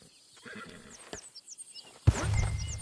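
A horse in the video game Red Dead Redemption 2 gives a loud, close whinny that breaks out suddenly after quieter hoof clip-clops and faint rustling.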